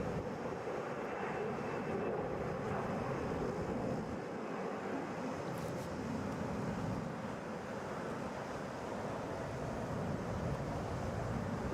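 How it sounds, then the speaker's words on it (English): A Delta Airbus A321 airliner rolls out for takeoff at Atlanta International Airport, its engines giving a steady, broad roar that holds evenly throughout, with wind noise on the microphone and no voices. "Delta Flight 1605 headed for Houston. Rolling out right now."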